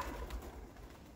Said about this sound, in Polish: O, takie gołębie